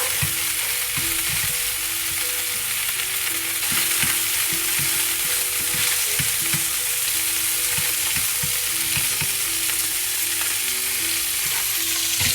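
Salmon pieces sizzle and fry in a hot pan for cream salmon spaghetti, a steady close crackle with occasional stirring scrapes and clinks, no voices.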